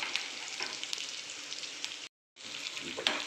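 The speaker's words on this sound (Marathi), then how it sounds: "बारीक चिरलेला कांदासुद्धा मी त्याच्यात टाकलेला आहे आणि हलकासा त्याचा रंग बदलेपर्यंत आपल्याला त्याला परतून घ्यायचं आहे" Finely chopped onion fries in a pan over low heat with a steady, close sizzle and a few stirring scrapes. A brief gap of silence breaks it partway, then the sizzle resumes.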